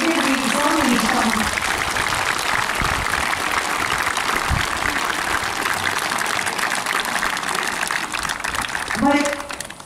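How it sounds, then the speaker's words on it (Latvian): A large audience applauds steadily at a gathering of Latvia's politically repressed people in Ikšķile, the dense clapping running loud and continuous for nearly ten seconds before tapering off, with a voice starting up at the end. "Ivars Kaļķis gan ir pelnījis lielus aplausus"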